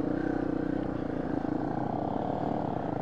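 A small trail motorcycle cruises in low gear on a novice trail ride, its engine a steady, close drone that holds an even pitch from start to finish.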